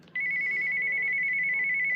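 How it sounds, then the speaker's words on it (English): A NOAA weather radio's ringtone: a sharp, steady high electronic tone that starts abruptly and holds unbroken, loud and close, with no talk. "this button here, by the way, is the ringtone"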